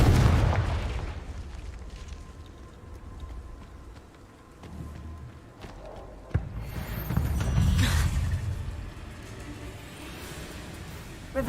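Confringo blasting spells from Hogwarts Legacy go off as a few low booming explosions, one sharp burst near the middle and a swelling blast later, over a rumbling game backdrop.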